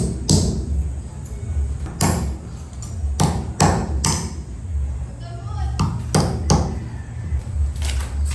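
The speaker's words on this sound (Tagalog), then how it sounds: "kailangan nyo ng martilyo para pagpitpit dito sa tansan." A hammer flattens metal bottle caps in a series of sharp, separate strikes spread irregularly over several seconds, loud and close, with a low background hum between blows.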